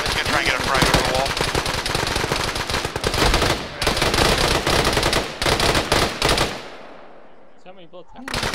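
Loud, rapid machine gun fire rattles in long continuous bursts during a video game firefight, then cuts off into near silence with a few faint shots afterward.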